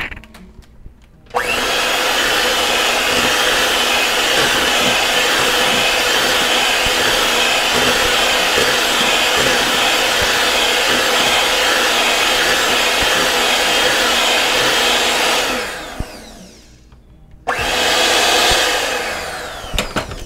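An electric mixer whirs steadily through cheesecake batter for mini cheesecakes, running loud and even for about fourteen seconds, cutting out briefly, then starting up again near the end.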